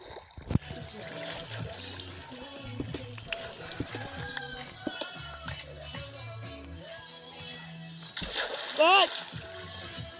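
Water splashing inside a mined cave in a blocky video game, a burst of bright splatter near the end over a busy bed of game music and effects, with a person talking throughout.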